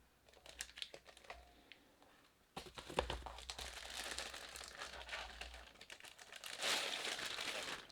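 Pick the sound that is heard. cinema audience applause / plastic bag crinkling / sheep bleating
plastic bag crinkling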